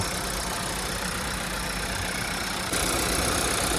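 A late-2023 Cupra Formentor's engine idling steadily under the open hood, a close, even mechanical hum that grows slightly louder and brighter toward the end.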